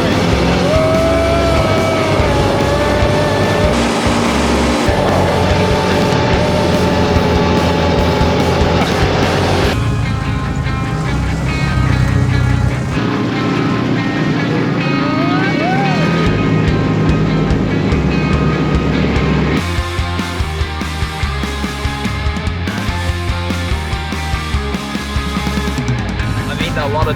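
An off-road buggy drives over dirt tracks in the Algarve, Portugal, its loud, rough engine and wind roar running continuously for the whole stretch with faint voices barely present underneath.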